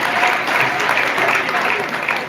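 Loud, continuous applause from a large audience for children performing at a Shri Vallabh Jayanti celebration, a thick, even wash of clapping that holds steady from start to finish.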